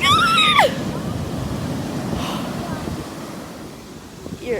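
Large ocean waves wash onto a sandy beach during a night outing, a broad continuous surf roar with wind buffeting the microphone, and a voice briefly cries out at the start.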